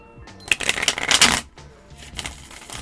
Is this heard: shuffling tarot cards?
yes